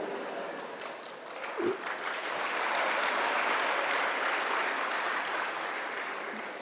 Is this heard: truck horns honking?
no